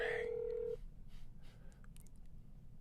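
Telephone ringback or dial tones on an unanswered call, heard as a loud tone at the start that cuts off within a second, leaving low background hum and faint breathing-like noise.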